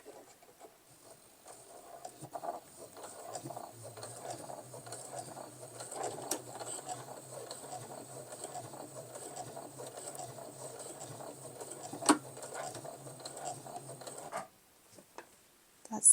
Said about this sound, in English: That's the front stitching through 8 layers of denim.